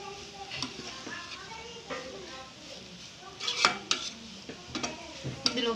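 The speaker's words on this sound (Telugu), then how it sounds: "ఒక 2 minutes ఇలా ఫ్రై చేసుకుందాం" A bread and potato snack frying and being mashed and stirred in a pan: soft sizzling beneath repeated scraping and tapping of a spatula against metal, growing sharper and louder toward the end, close up with no voices.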